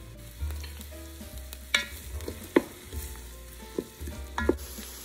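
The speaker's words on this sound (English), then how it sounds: "we'll fry these onions till they turn transparent" Chopped onions and about ten curry leaves frying in a Ninja Foodi, a low, fairly quiet sizzle punctuated by a few distinct spoon knocks and scrapes as they are stirred.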